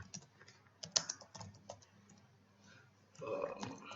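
Keystrokes on a computer keyboard during home automation setup, a run of quiet, irregular clicks with one sharper tap near the middle and a denser clatter at the end.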